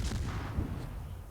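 Warship gunfire in World of Warships from a Gremyashchy destroyer, a deep booming salvo that rolls out into a low rumble over the brief moment.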